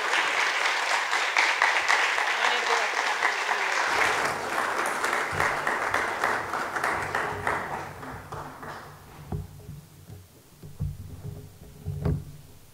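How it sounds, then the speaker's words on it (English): An audience at a seminary opening convocation breaks into sustained applause for the entering class, a dense wash of clapping that thins and fades over its second half into scattered claps and small knocks. "Join me in applauding, unmuting, waving, cheering, celebrating as we welcome our entering class."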